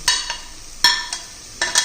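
Short bursts of mushrooms sizzling and being stirred in a pan, three or four scrapes and hisses spaced irregularly, close and fairly loud with no talking.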